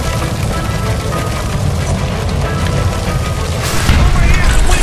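A gas line explodes after being shot in the L.A. Noire video game, a loud sustained rumbling blast that swells louder near the end.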